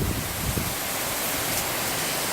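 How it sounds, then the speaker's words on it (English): Heavy rain pours steadily outdoors, a dense, unbroken hiss of water that fills the whole moment at close range with no pauses or voices. "You can see how it's raining out there."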